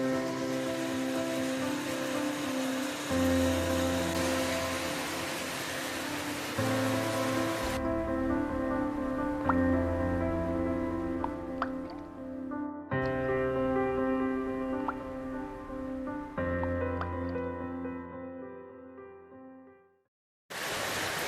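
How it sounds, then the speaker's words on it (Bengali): Heavy rain pours down in Gangtok with a steady, fairly loud hiss that holds throughout, then breaks off abruptly near the end. "তবে এখন মুষলধারে বৃষ্টি চলছে, মানে অসাধারণ বৃষ্টি"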